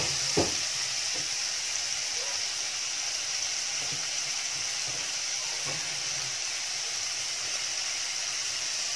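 Mushrooms and vegetables sautéing in a pan for a Filipino ginisang kabute dish, giving a steady bright sizzle and hiss throughout with a few soft clicks and stirs.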